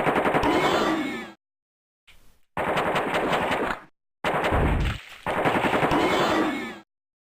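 Loud bursts of machine-gun fire from enemies in the video game AOPID Total Carnage, three rapid sustained volleys separated by brief silences.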